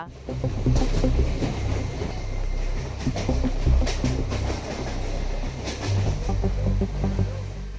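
A train crosses a rail bridge with a loud, continuous rumble and rhythmic clattering of wheels over the tracks, sustained throughout without a break.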